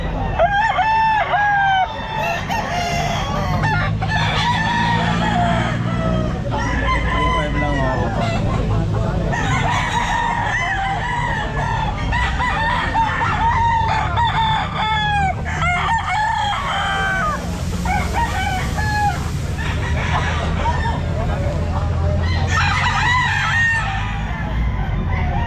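Gamefowl roosters, among them hatch birds, crow again and again at the Grotto pet market. Several birds call loud and near, overlapping one another, with clucks and busy market noise underneath.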